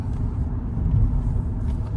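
A 1997 Euro-market BMW Individual 316i Compact engine rumbles steadily as the car drives, with a low, continuous drone close up and no talking.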